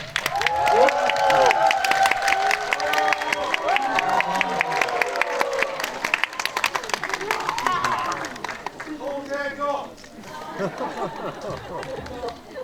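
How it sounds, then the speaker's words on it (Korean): Audience at a stage greeting before a screening of the Korean film Dark Nuns in a Lotte Cinema World Tower auditorium, loud sustained applause and cheering with crowd chatter and voices throughout. "큰 박수와 환호성으로 맞이해주세요"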